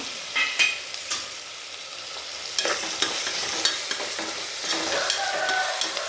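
Onions frying with rock salt in a pan, cooking for mutton biryani. A steady, close sizzle runs throughout, with occasional scraping clicks from stirring.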